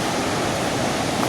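A mountain river stream rushes beneath a bridge on a trek, a steady, loud broadband wash of churning water with no pauses, close by and alone.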